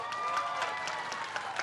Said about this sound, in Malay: Kita berikan tepukan bergemuruh untuk Giat Mara.